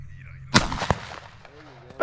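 A single sharp, loud shotgun blast goes off while dove hunting at a feedlot in Mexico, followed by a brief rumbling tail and the start of a voice.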